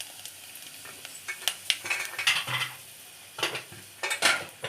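Dried red chillies frying and being stirred in hot oil after mustard seeds have popped, crackling sizzle with irregular scraping stirs and light pan clinks, close and fairly loud, no voices.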